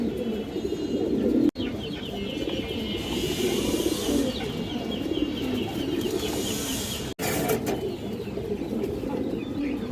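Pigeons coo steadily in a low, throaty murmur that continues throughout, with faint bird chirps above and two brief dropouts.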